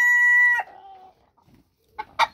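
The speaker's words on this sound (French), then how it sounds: "le petit coq gris-perle" A small pearl-grey rooster lets out one loud, close crow that breaks off sharply, followed by a quiet pause and then a few short clucks.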